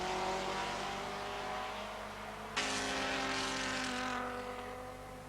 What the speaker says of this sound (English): the Holden in a power slide has Cecotto right on his tail